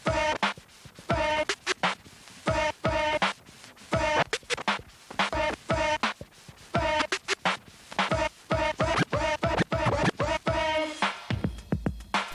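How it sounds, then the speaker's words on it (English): Turntable beat juggling and scratching, with rapid rhythmic cuts and choppy back-and-forth record scratches chopping repeated musical fragments, loud and up front. "The sound of beat juggling is also very unique to the turntable"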